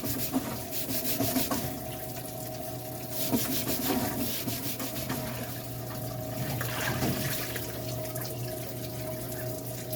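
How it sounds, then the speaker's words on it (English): Steady close scrubbing of a Scotch-Brite pad over a greasy metal suspension part from a 1985 wagon being cleaned for repainting, a continuous gritty rubbing under faint background hum, with no talking. "I like to use some Scotch-Brite just to go around the outside"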